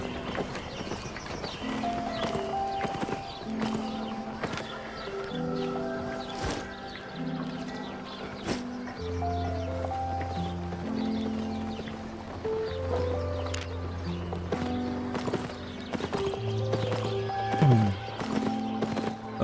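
A gray horse's hooves clip-clopping in the Albion Online video game, in a steady rhythm under in-game music, with occasional whinnies and clucking fowl nearby.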